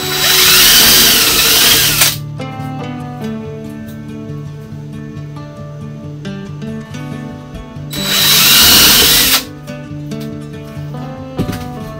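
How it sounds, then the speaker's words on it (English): Power drill boring a pilot hole, two loud whirring bursts of a couple of seconds each, close up, separated by quieter stretches with a tonal background hum. "So here's going to be our pilot hole."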